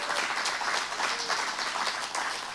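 Dense applause from an audience at a cycling summit keynote fills the whole span, steady and full with no talking over it.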